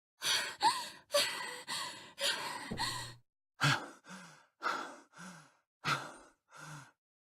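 A video game character from 999 gasps and pants for breath, a series of about ten sharp, close inhales and exhales in an uneven rhythm, each breath separated by brief silence.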